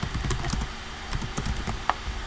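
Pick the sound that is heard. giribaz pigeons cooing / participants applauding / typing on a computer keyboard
typing on a computer keyboard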